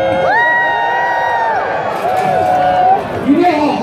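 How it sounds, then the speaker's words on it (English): An audience at a life-size Mousetrap game cheers wildly, with loud, close whoops and excited high shouts rising and falling in bursts, voices carrying the cheering throughout. "you are now cheering wildly"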